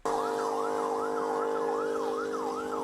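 A police car siren wails in a steady up-and-down cycle over a constant engine drone during a chase in body cam footage, loud and close with no talk.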